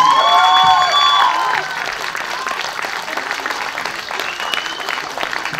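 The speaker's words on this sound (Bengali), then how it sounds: "একটা জোরে হাততালি প্লিজ।" An audience at a Durga Puja pandal stage comedy drama claps loudly, a dense burst of applause that starts full and eases to a steadier, thinner patter, with a few voices briefly over it.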